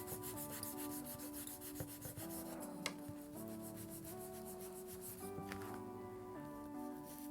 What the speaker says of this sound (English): now what I do is I just take a wooden spoon and then I burnish it some more